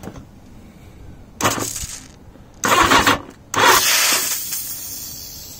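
A motorbike engine with the fuel on prime cranks in three separate bursts of whirring starter noise, each lasting about a second, close to the microphone with quiet gaps between them.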